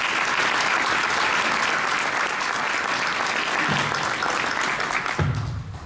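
Steady, dense applause from a pageant coronation crowd fills the whole stretch, loud and even, fading slightly at the end.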